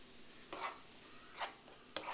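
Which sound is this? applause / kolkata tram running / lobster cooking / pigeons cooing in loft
lobster cooking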